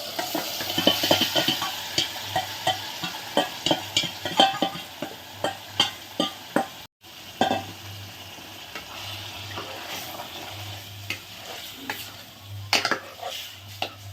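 Chicken is stirred into thick haleem in a pot, with a quick run of rhythmic spoon scrapes and soft sizzling, then slower intermittent stirring and clinks.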